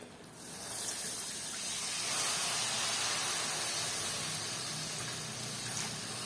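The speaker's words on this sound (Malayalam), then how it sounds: "ഒന്ന് തിളച്ച് വരട്ടെ, നന്നായിട്ടൊന്ന് തിളച്ച് വരണം." Vinegar mixed with spices heats in a pan as a steady hissing, bubbling sizzle that swells slightly and holds, close and continuous.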